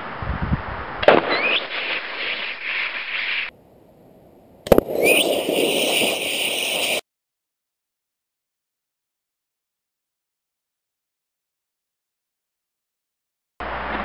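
An air tank bursts under compressed air pressure during destructive testing, with sharp, loud bangs and crackling noise, then sudden silence.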